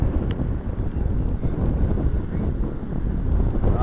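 Steady wind buffets the microphone outdoors during a flight of a Balsa USA Smoothie model airplane, a continuous low rumbling roar with no talk, loud and unbroken throughout.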